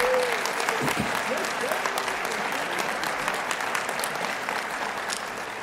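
A convention audience applauds the Bowerman committee at an awards presentation, a steady wash of clapping that holds at an even level for several seconds and thins slightly toward the end.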